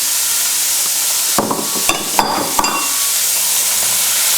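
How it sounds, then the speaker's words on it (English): Onion and red pepper dropped into a hot pan for a one-pot Basque chicken, a loud close sizzle bursting up with several sharp clatters as the vegetables hit and are moved around. "Now with the pan still hot, I'm just going to go in with the onion. And also the red pepper as well."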